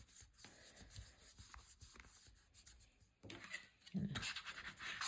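Adhesive paper is rubbed firmly down over a small magnet with repeated close, faint scratchy rubbing strokes that grow louder and busier toward the end.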